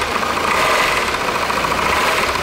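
A Volvo XC90 engine idles steadily just after starting, a dense continuous mechanical hum with a slight irregular knock, heard close and loud with no talking.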